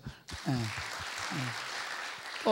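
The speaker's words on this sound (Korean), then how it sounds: "박수." Applause from a church congregation during a worship service starts abruptly and carries on steadily as a dense patter, with a voice speaking over it at moments.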